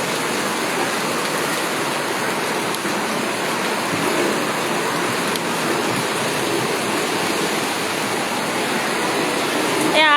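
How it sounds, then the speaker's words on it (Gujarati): Heavy, continuous rain after days of downpour over waterlogged farm fields, a dense steady hiss that stays even and loud throughout without a break. "2 રાત ને 3 દિવસ સતત વરસાદ છે."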